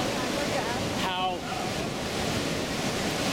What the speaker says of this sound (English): the flow of the river looks so powerful